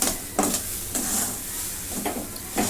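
A gram flour (besan) mixture sautéing over low heat in a pan, a soft continuous sizzle broken by several scraping stirs at irregular intervals.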